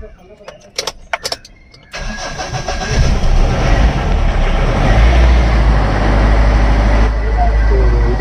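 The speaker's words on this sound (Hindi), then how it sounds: "एक बार गाड़ी स्टार्ट करता हूँ।" A Mahindra Bolero that had a starting fault and kept stalling cranks briefly, then catches and settles into a loud, steady diesel idle up close, after a few clicks and knocks at the start.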